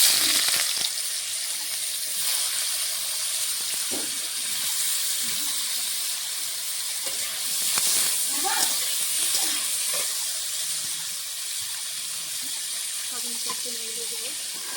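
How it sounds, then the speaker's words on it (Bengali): Paneer fries lightly in oil left in the pan after carrots, giving a steady, fairly loud hiss and sizzle throughout, with a few soft clicks and a brief voice heard near the end. "এই তেলে আমি পনিরটা হালকা করে ভেজে নেব।"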